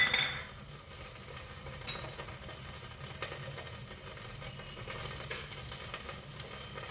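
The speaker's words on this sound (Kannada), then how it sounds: "ಇವಾಗ ನಾವು ತಗೊಂಡ ಒಂದೊಂದೇ ಮಸಾಲೆಗಳನ್ನು ಹಾಕೋಣ" Whole spices such as cardamom, cinnamon, cloves and star anise stirred into hot oil with ginger-garlic paste for chicken biryani, giving a steady low sizzle with occasional scrapes and clinks of a spoon against the pan.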